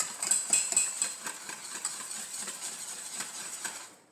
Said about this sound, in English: Continue to whisk this.